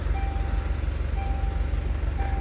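Periodic electronic warning beeps chime over a loud, rumbling idling 2016 Jaguar XE 2.0d diesel engine, three evenly spaced tones.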